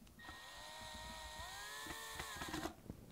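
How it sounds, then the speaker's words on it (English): A power drill boring holes into a wooden board whines steadily, its pitch rising slightly as the bit bites into the wood, then cuts off near the end. "now we will finish drilling the holes"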